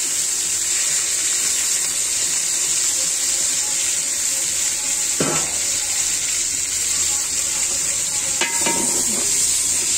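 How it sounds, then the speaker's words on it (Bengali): Brinjal pieces frying with garlic, onion and cumin in a pan give a steady, close hiss of sizzling oil, broken by a couple of sharp scrapes of a spoon stirring against the pan. "নাড়াচাড়া করে নিব বেগুনগুলো"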